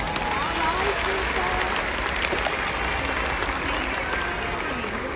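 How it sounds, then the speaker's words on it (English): A large audience at a KIPP New Orleans Schools graduation ceremony breaks into loud, sustained applause for teachers, dense clapping continuing steadily throughout with cheering mixed in. "give your teachers a big round of love and applause"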